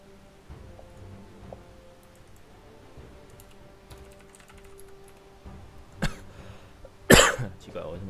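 A person coughs sharply twice near the end, with a louder burst at the close, over quiet keyboard typing and murmured talk during an online gaming session.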